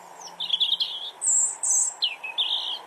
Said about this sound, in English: A plump, brown and grey chaffinch perches high on top of a yew branch.